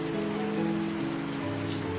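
Heavy rain pours in the video game Until Then, a steady dense hiss alone under low sustained musical tones, with no speech.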